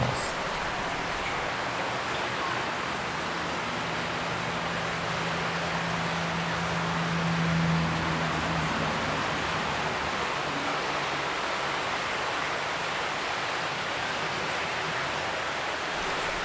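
The Lybid river runs through an underground collector strewn with litter, giving a steady, loud, enveloping rush of flowing water that holds evenly throughout, with a faint low hum rising briefly midway.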